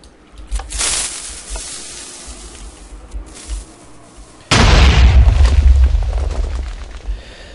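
After a few seconds of quieter rumbling Minecraft game noise, a TNT cannon fires with a loud, deep explosion that bursts in and roars on with a heavy, sustained rumble.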